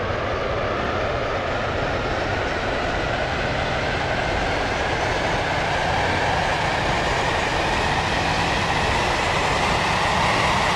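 A Stepford Connect train in the Stepford County Railway Roblox game rolls along at speed, with a continuous loud, even rumble and a faint rising whine throughout, no voices.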